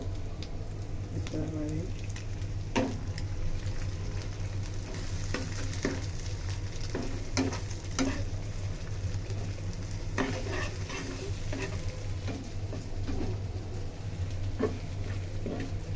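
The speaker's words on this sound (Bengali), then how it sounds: "এখন আমরা এটাকে ভালো করে ভেজে নিব।" Eggs fry and are stirred together with chow mein noodles in a pan, giving a steady loud sizzle broken by repeated scraping and clattering strokes of a utensil against the metal.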